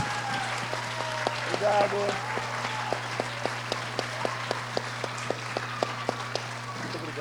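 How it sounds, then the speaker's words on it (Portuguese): A literary festival audience claps for guest Ricardo, a steady patter of applause over a constant low hum, with a voice briefly speaking over it. "bater mais uma salva de palmas"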